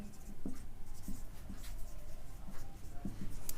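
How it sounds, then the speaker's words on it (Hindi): Chalk or marker writes by hand on a board during a calculus lesson, a series of close, distinct taps and short scratchy strokes in an irregular rhythm. "ठीक है, तो लिखते हैं इसको"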